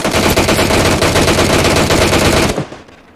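Continuous automatic gunfire in PUBG Mobile on the Livik map, a loud dense burst of rapid shots lasting a few seconds before cutting off abruptly.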